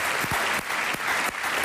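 A studio audience gives steady, dense applause for medical staff, continuous clapping throughout with no voices.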